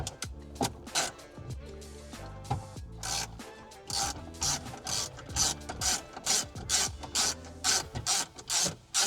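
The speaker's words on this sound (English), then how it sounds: "Take our 7mm, we're gonna take out this bolt right up here between the trim and the center console." A ratchet wrench clicks in quick repeated bursts as a 7mm bolt is loosened between the trim and center console of a 2013-2014 Ford Raptor truck, close and crisp with small rubbing noises.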